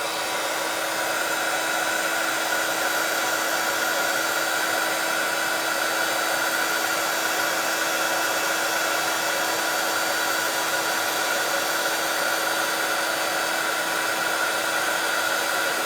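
A heat gun blows steadily for about sixteen seconds as embossing powder melts on mirror card, a constant loud whirring hiss with a high whine running through it and no talking.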